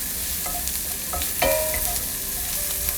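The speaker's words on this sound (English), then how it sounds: "A little bit of sea salt, and you just want to stir those" Sea salt being stirred into a sizzling pan, with a steady, close frying hiss and a few light scraping stirs over about three seconds, without any voices.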